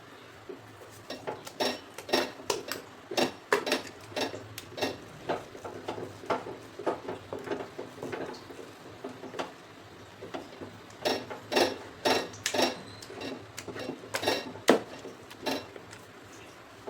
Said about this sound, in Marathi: कढईमध्ये चीक हटण्याचं सर्वात मेहनतीचं काम आणि काळजी करून हटावं लागतं